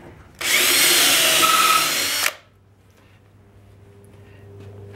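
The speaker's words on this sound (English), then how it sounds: "So we'll drill that." A power drill whines loudly through material for about two seconds, then stops abruptly, leaving a low hum.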